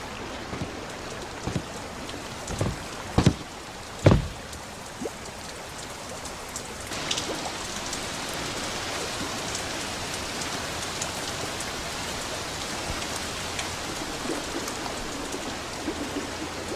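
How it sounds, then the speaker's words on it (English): A tropical rain shower on a fishing trip, a steady dense hiss of rain on surfaces with a few sharp knocks and thumps early on. "You know that it's raining?"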